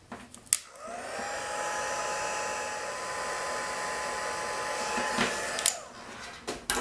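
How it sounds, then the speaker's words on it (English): An embossing heat tool blows hot air in a steady, loud whirring rush for several seconds, starting and stopping with small clicks and handling bumps nearby. "you don't want to be having the heat hit your fingers on a heat tool"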